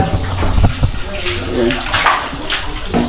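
Running water splashes steadily while something is washed and scrubbed with soap at a construction site building a metal deck for a third floor, with a voice talking over it.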